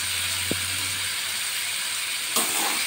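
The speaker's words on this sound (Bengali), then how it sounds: "এবার আমি ভালো করে কষিয়ে নেব" Chicken sautés in a pan with spices ground on a grinding stone, giving a steady, loud sizzling hiss throughout, broken by a light clink early on and a sharper clatter near the end.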